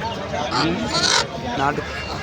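Kadaknath and country chickens clucking and squawking at a busy Sunday market, loud and close, with voices talking over the birds.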